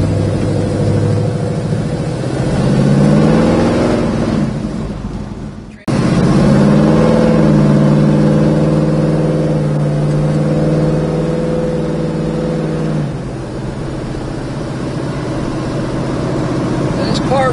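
A 1970 Chevrolet Chevelle with a heavily cammed V8 rumbles and revs while driving, its engine note rising and falling loud and close, briefly cut off midway.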